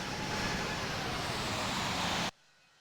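Steady broadband engine rumble of an Aeromexico Boeing 777-200 taxiing to parking in the Infinite Flight simulator, constant and fairly loud, then cutting off abruptly near the end.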